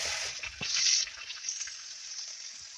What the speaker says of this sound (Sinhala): ගෝවා ටික අපි භාජනයට එකතු කරගෙන හොඳින් කලවම් කරගන්නවා.